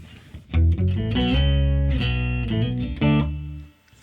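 Octa-Chop effect pedal on bass guitar, giving warbling, glitchy tones like a dial-up modem: a few loud choppy bursts with stepping pitches, alone, then a fade.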